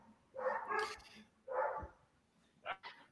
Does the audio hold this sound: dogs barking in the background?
yes